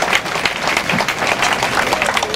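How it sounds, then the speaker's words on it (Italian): Crowd applause in the town square of Giovinazzo, a dense steady patter of clapping lasting a couple of seconds at fairly close range, with no talk over it. "foto di rito e applauso qui in piazza a Giovinazzo."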